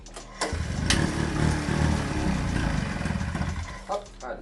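A vintage Mobylette moped engine with the choke on and the decompressor engaged catches after a short cranking burst, then runs with a loud, steady, close two-stroke idle.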